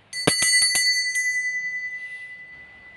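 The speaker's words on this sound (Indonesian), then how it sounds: "Kita memulai dengan tanda lonceng berbunyi." A bright bicycle-style bell rings in a quick burst of four strikes, then one more, its metallic tone ringing out and fading, loud and close.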